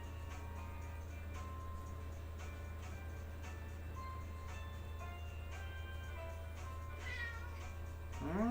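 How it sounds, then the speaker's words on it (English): A cat meows a few times, faint and scattered, over a steady low hum, with a louder, drawn-out meow near the end. "I don't know if his meows are being picked up by the mic or not."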